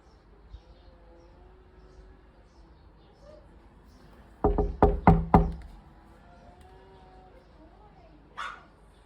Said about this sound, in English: I'm going to go out and I'm going to knock